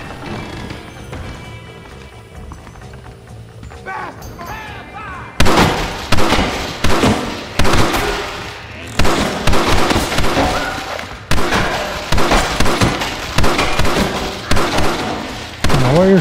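Repeated gunshots from a Red Dead Redemption shootout crack loudly in bursts after a quieter opening, with several sharp volleys spaced across the scene.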